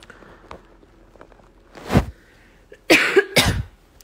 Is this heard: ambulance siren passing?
no